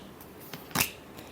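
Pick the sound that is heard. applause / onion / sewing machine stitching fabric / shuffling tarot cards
shuffling tarot cards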